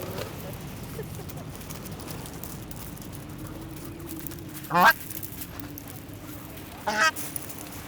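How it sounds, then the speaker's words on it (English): Two loud, harsh goose honks ring out a couple of seconds apart as a swan pecks at the geese, over a steady outdoor background hum, with scuffling in between. "It's a swan having a peck at some geese."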